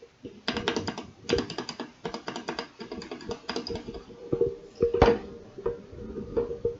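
Close typing on a custom GK61 mechanical keyboard with Gateron Yellow linear switches, bursts of rapid clacks separated by short pauses, crisp and near with no talking.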